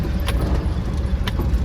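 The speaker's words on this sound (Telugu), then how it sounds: "కార్లు అయితే ఘోరంగా వస్తున్నాయి" Cars stream past in heavy festival-return city traffic, a brief steady roar of engines and tyres with a couple of light jangling clicks on top.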